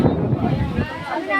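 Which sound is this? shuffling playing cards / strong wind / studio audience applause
strong wind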